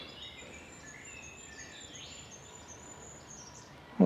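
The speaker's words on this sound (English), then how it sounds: "Cacophony of birdsong." Many birds chirp and trill together at a distance, a soft continuous chorus in an otherwise quiet countryside setting near Moreton-in-Marsh.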